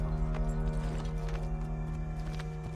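Horse hooves clip-clop softly on Boston streets in Assassin's Creed III, a faint rhythmic clatter of steps over a quiet game music and ambience bed.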